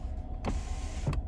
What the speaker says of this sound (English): then you can control your windows